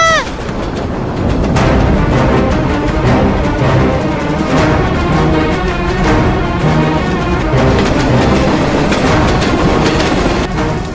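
A train runs on rails in a Tamil TV serial scene, a loud, continuous rumble with rhythmic clickety-clack of wheels over track joints and metallic rattling, sustained close up for the whole stretch.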